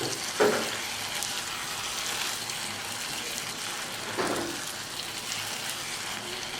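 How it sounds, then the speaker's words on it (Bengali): Tomatoes frying in oil in an uncovered pan on the stove, a steady soft sizzle broken by two brief louder stirring scrapes, close and alone without talk. "তারপর আমি আরও একটু সময় চুলার উপরে ঢাকনাটা খুলে একটু ভাজতে থাকবো, যাতে টমেটোটা আর একটু বেশি গলে যায় এবং তেলটা আলাদা হয়ে যায়।"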